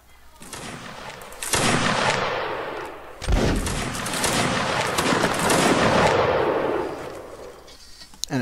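Gunfire rattles through a Mount and Blade Warband multiplayer battle, dense volleys and sustained shooting building in waves, loud and close, with a sharp burst midway and scattered faint voices underneath.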